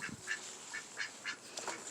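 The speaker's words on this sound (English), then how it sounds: "these are the male ducks, the Muscovy male ducks" Male Muscovy ducks in a homestead pen give a series of soft, regularly spaced hissing calls, about five in under two seconds, faint and fairly close with no talking.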